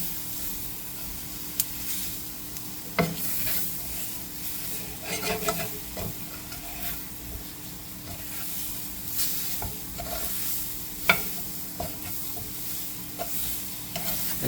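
Flour and oil get stirred together in a pan, a soft low sizzle beneath irregular scrapes and clacks of the utensil, fairly quiet and close, no one speaking.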